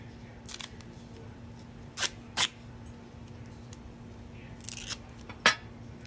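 Duct tape is torn and handled while patching a broken ashtray back together, giving a few sharp, brief ripping and crinkling bursts spaced over a quiet background hiss, with no talking.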